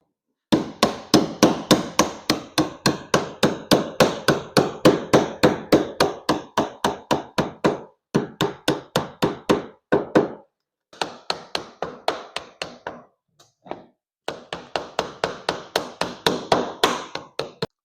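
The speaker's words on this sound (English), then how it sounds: "So what I'm doing is running just a putty knife down through this" A putty knife is hammered through a boat's hull-deck joint to break corroded staples, rapid sharp metallic taps in long even bursts with brief pauses, loud and close, no talk.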